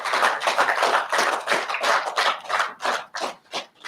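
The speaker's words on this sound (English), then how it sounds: "Please give Mr. Brown a big round of applause." Audience at a youth under-15 cricket competition ceremony gives a round of applause, a dense run of hand claps that thins into a few separate slaps toward the end.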